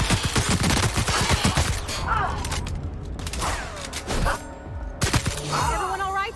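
Gunfire from a weapon in the video game The Outer Worlds, loud bursts of shots with mechanical clatter running through most of the stretch, with brief pauses and faint voices in between.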